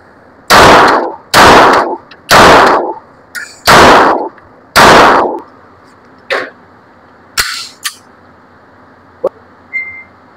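An Armscor STK100 pistol fires reloaded ammunition in five loud, closely spaced shots at an outdoor range, followed by scattered fainter shots from other shooters farther off.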